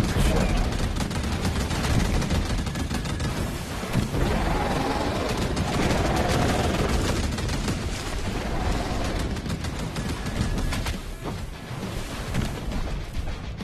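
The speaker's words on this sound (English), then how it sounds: "Who's shooting at me?" Dense, continuous gunfire and explosions from the video game Big Shots, a loud nonstop barrage of rapid shots with booms, with a voice briefly audible over the din.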